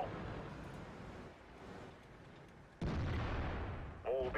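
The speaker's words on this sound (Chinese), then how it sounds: "准备向目标开炮。" An IS-2 heavy tank's main gun fires in World of Tanks, one sudden loud cannon boom over a rumbling engine bed, followed by a brief chime, with a voice line just before.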